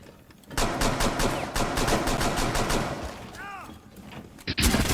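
Rainbow Six Siege multiplayer firefight: loud, rapid automatic gunfire in quick bursts, followed by mechanical clicks and a few final shots.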